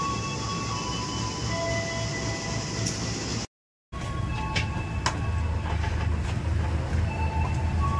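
Passenger train running on rails in Indonesia, a steady rumbling hum with faint clanks and a brief dropout, heard from inside the carriage without talk.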